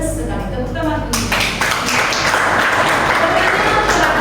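Classroom applause from a group of students, a dense steady patter of many hands clapping close by that swells after the first second and continues throughout, with some voices mixed in.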